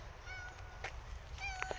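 A cat in a cemetery gives a few short, plaintive meows, faint and close, with a brief pair of cries near the end over a quiet outdoor background.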